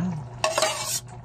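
String beans stirred in a cooking pot, a burst of scraping, sizzling churn lasting about half a second over a low steady background hum.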